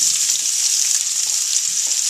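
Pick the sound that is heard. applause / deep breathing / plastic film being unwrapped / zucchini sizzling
zucchini sizzling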